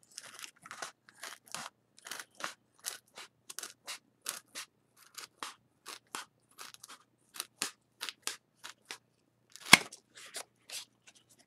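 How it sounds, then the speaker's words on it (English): Scissors snipping through foam while building a basic bridge model: a quick, steady run of roughly two dozen crisp, close cuts with short pauses between them and one sharper crunch near the end. "And you just cut your foam."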